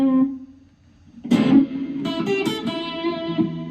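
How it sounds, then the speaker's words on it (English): An electric guitar with slight overdrive, played through the reverb effect of a Flamma FX10 headphone amp, rings out in a held note and then a strummed chord whose decaying tail lingers and washes out. "Reverb."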